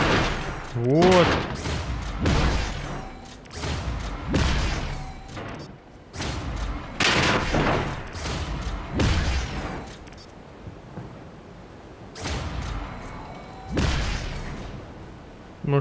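Gunfire in the video game The Chronicles of Riddick: Assault on Dark Athena comes as repeated loud, sharp bursts and booms spread across the stretch, with quieter gaps between volleys and someone talking over parts of it.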